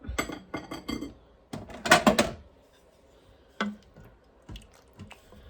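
A spoon scrapes and clanks against the bottom of an Instant Pot of thickening spaghetti in several short, uneven bursts, with a couple of louder scrapes early on and quieter, sparser knocks afterward.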